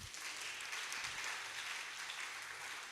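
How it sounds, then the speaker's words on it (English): An audience claps steadily for a lecturer at a polytechnic valedictory lecture in Ibadan, the applause dense and sustained throughout with no voices over it. "Please clap for him."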